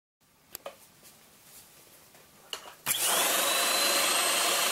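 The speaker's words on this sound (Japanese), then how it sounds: "掃除機でホコリを吸い出します。" Vacuum cleaner with a brush head drawing dust out of an HP EliteDesk 800 G3 SFF desktop PC, switched on after a few soft clicks and then running as a loud steady whine right up close.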